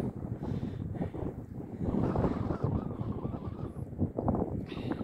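Gusting wind buffets the microphone on a mountain fairy trail, a steady low rumbling roar with surges and no clear speech.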